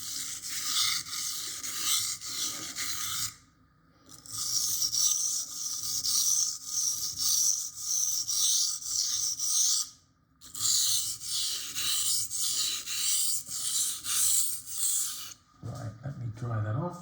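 A knife is drawn across a Lidl Parkside whetstone in long rasping strokes. Sustained scraping runs in three bursts separated by brief pauses, close and clear, with a short low clatter at the end.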